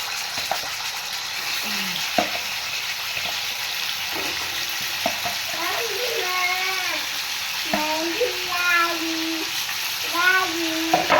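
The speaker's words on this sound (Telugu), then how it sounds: "అదిగోండి ఆయిల్ ఎక్కింది ఇందులో చికెన్ వేస్తున్నాను" Chicken pieces go into hot oil and fry with a steady, bright sizzle and spattering crackle throughout, joined by clinks of a utensil and voices talking in the background.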